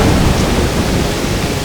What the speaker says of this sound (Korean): 이렇게 천둥번개가 치게 되면